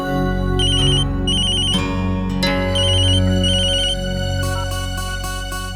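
A phone ringtone plays repeatedly in bursts of bright electronic tones during a family meal at home, loud and clear with no talking over it.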